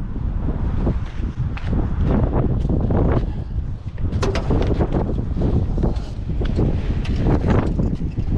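Heavy wind buffets the microphone in continuous rumbling gusts, with no voices present.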